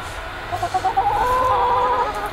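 Chickens in a backyard coop on a cold, windy day cluck nearby in a short run of rising, throaty calls over a low background rumble.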